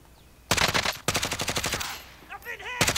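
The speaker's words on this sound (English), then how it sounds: "Taking fire over here" Rapid automatic gunfire in Call of Duty: Modern Warfare, two close, loud bursts of evenly spaced shots separated by a short pause, with a brief chirping effect and another burst starting at the end.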